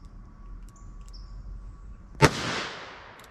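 A .22 Magnum round fired from a revolver with a 3-inch barrel cracks out as one sharp, loud shot, followed by a decaying rumble and hiss, with a quiet outdoor setting before it.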